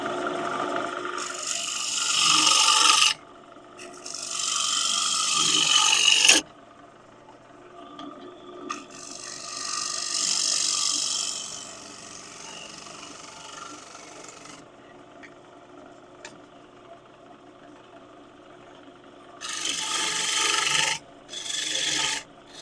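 A negative rake scraper cutting a wooden bowl on a lathe comes in several rasping bursts of a few seconds each, separated by the quieter whir of the spinning wood.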